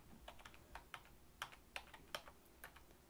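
Quiet, close keystrokes on a Mac computer keyboard as a Terminal command is typed, about a dozen soft clicks in an irregular quick rhythm, with no voices.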